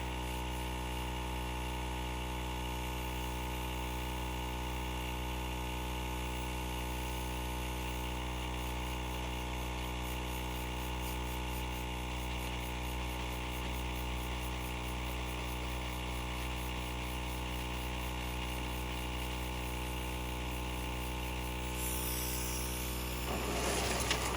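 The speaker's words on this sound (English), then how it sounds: "So turn on my compressor" An air compressor powering an AirPen for acrylic painting hums steadily and continuously at a moderate level, a constant motor drone with a brief hiss near the end.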